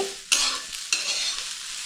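Masala roasting and sizzling in a hot cast-iron tawa with the gas turned off, a steady crackling hiss with two sharp stirring scrapes, close and alone.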